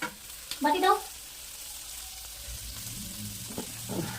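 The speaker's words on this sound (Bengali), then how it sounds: "তখন দুটো দিয়ে দিয়েছে, ভাজা হোক এই দুটো" Sea fish frying in a pan, with a soft steady sizzle running throughout and a brief louder burst of crackle near the start.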